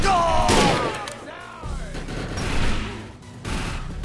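Gunfire in the shooter game Defiance comes as a few sharp bursts and booms mixed with other game effects, loud and close, with a voice talking briefly over part of it.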